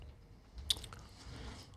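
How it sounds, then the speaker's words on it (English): Gum being chewed close to a microphone, with soft wet smacks and one sharper click in the middle, faint and intermittent over quiet background with no talk. "Are you chewing gum? I am. Did you hear me smack?"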